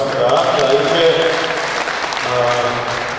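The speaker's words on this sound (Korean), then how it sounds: "다시 한번 여러분 두 분에게 큰 박수 부탁드리겠습니다" An audience at a Korean political talk event claps steadily for two guests, a dense burst of applause lasting about three seconds while a voice speaks over it.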